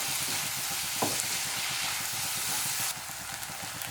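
Crushed ginger and garlic frying in oil, a continuous loud sizzle with rhythmic scraping as they are stirred, the hiss dropping slightly near the end.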